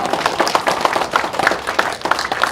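A crowd at a national prayer breakfast and thanksgiving worship service claps energetically, a dense stream of hand claps with no talking over it.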